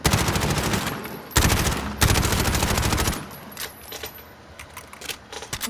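Rapid automatic gunfire at the normal fire rate in the video game Loudout comes as loud, close bursts over the first three seconds, then fades to quieter scattered clicks.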